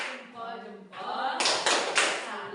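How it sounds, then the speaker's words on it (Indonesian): A group claps a 'tepuk salut' pattern in a classroom: three loud, sharp bursts of unison clapping in quick succession, following a stretch of talk. "Kita kasih tepuk salut untuk kelompok manggis."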